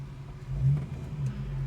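A truck speeds past on a highway in heavy traffic, giving a brief low engine drone that swells and fades, fairly faint and heard from a distance.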